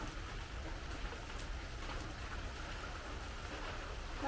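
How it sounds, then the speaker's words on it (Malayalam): Steady rain patters down continuously, a soft even hiss of drops on surfaces, moderately quiet with no voices. "മഴ പെയ്യുവാണ് ആ ഇതാണോ നല്ല മഴ"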